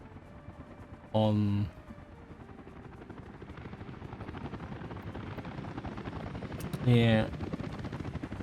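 A helicopter in the video game Workers & Resources: Soviet Republic gives a steady rhythmic rotor chop throughout, loud and near, while someone talks briefly over it twice.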